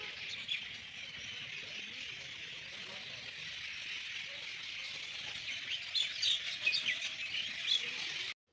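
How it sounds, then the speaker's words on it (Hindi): Birds chirping and calling in a forest at Kanha in Madhya Pradesh, a steady dense chorus of faint, distant tweets and squawks under a soft outdoor hiss, busier toward the end. "चिड़ियों की आवाज़ कितनी अच्छी लग रही है।"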